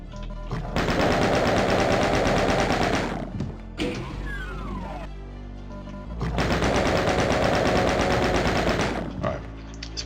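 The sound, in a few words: chain gun firing in video game DOOM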